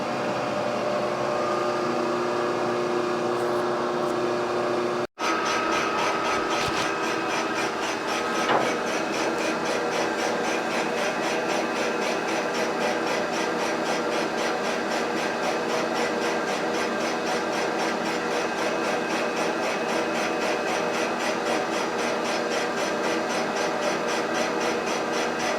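Boring bar cutting the cylinder of a Kawasaki F7 175 Bushwacker motorcycle, a steady whirring machine hum with a fine rhythmic grinding texture after a brief click, continuous and close with no talk.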